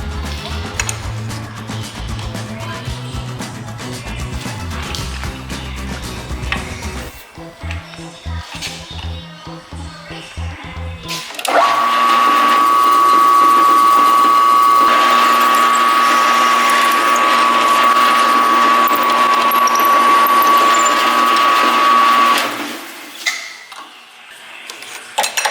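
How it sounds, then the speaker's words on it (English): A power drill whines at a steady high pitch drilling through metal for about ten seconds, following earlier clanking and ratcheting tool noises. "now we'll just drill a hole through this"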